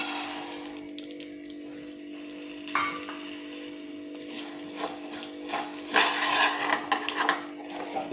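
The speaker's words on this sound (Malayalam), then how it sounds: "ഈ സേമിയ നമുക്കൊന്ന് ജസ്റ്റ് ഒന്ന് കുറച്ച് നെയ്യ് ഇട്ടിട്ട് ഒന്ന് ചൂടാക്കി എടുക്കാം" Vermicelli roasting in a little ghee in a pan, with a soft continuous crackle and scraping stirs. The sound is moderately close and fairly quiet throughout, with a few louder stirring bursts toward the end and no talking.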